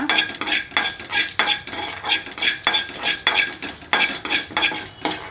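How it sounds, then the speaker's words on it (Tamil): Fenugreek seeds and four dried red chillies being dry-roasted in a pan, a steady rhythm of scraping and stirring strokes with light clinks of a spoon against the metal, close and alone. "1 ஸ்பூன் வெந்தயம் எடுத்துக்கோங்க. அப்புறம் ஒரு 4 வரமிளகா, இதை வந்து நல்லா வறுத்துக்கோங்க."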